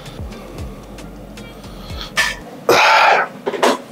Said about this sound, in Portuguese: Depois de dar aqui um ataquezinho de tosse.